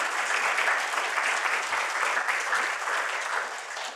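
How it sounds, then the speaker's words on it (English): Sustained audience applause fills a keynote hall at an education leadership conference, dense and steady throughout with no speech over it. "I think we need to give them applause as well to say thank you."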